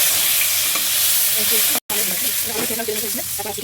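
Oil fries and splutters loudly in a home kitchen pan as a stirring utensil scrapes through it, giving a steady crackling sizzle broken by one brief dropout.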